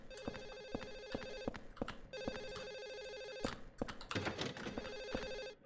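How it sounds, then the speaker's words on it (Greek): A telephone rings in the Silent Hill 4 video game, an old-style bell ring in repeated buzzing trills with short pauses, loud and echoing, heard alone. "Από εδώ είναι το τηλέφωνο, όχι."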